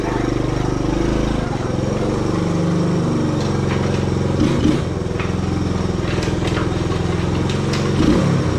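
A 1967 Honda CT-90 Trail 90 motorcycle runs with a loud, steady mid-pitched engine drone close by, the note shifting slightly as it rides along, with a couple of faint clicks and a voice briefly over it.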